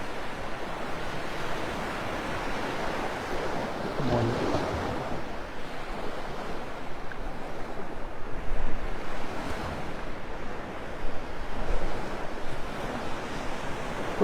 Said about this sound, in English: When you see these waves breaking like that, it means there's not much water there.